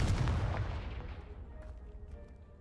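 A Confringo blasting spell detonates in the Hogwarts Legacy video game: one loud booming burst that opens the clip, then a rumbling, crackling decay that fades slowly over a couple of seconds, with no voices.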